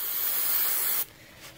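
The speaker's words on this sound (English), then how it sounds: "clean it up a little bit with some brake cleaner" A short, strong aerosol hiss of brake cleaner sprays continuously for about a second onto a trailer, then cuts off abruptly, close to the listener.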